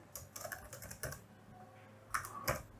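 Someone types code on a computer keyboard, a close, quiet run of key clicks in short irregular bursts with brief pauses between them and no talk.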